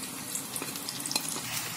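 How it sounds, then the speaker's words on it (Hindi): Chopped onions go into a kadhai of hot oil, giving a soft crackling sizzle with scattered pops, close and fairly quiet, with no talk. "अब हम इसमें चॉप की हुई प्याज डाल लेते हैं।"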